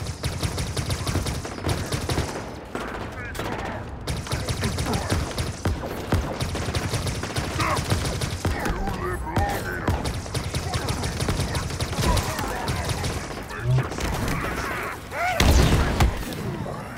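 Dense, sustained gunfire in the Halo Infinite video game, bursts of rapid shots layered over a busy battle soundscape with a heavier boom near the end, continuous and loud throughout.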